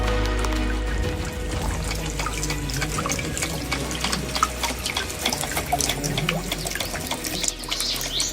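Fresh water flows steadily at a green spot in a desert, a continuous close gushing and splashing with light dripping, heard alone without talk.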